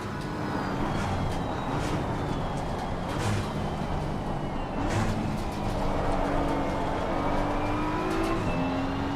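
Porsche race cars at Suzuka in a racing game roar together at close quarters, engines revving and rising through the gears while other cars whoosh past on either side.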